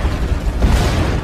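Dynamite explosion in a war film, a loud broadband rumbling blast that swells midway and rolls on with a dense, sustained roar.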